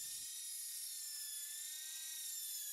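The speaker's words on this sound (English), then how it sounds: "2 hands on the drill, as it is easy to lose control" A steady high-pitched electric drill whine as an old drill spins a buffing pad on a guitar body, continuously at constant speed, close by, with no talking.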